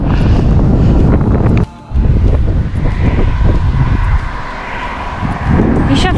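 Strong headwind buffeting a cyclist's microphone on a road near Rostock, a loud continuous rumbling roar with gusty swells and a brief lull midway.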